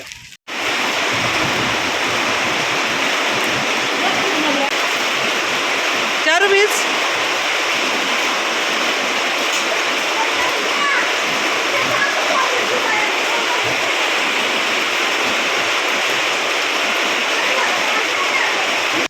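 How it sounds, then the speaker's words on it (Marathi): Rain pours steadily with occasional hail, a dense, unbroken loud hiss that runs throughout, with a few sharper impacts breaking through briefly. "पाऊस सुरू झालेला आहे आणि मध्ये मध्ये गारा पण पडत आहेत"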